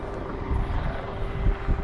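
A helicopter passing over a hillside near a harbor, a steady broad engine and rotor rumble that holds without letup, moderately loud and fairly distant, with no speech.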